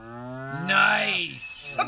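A video game cow gives a drawn-out, harmonic moo that rises and then breaks into a second, brighter call, loud and close with no talk over it.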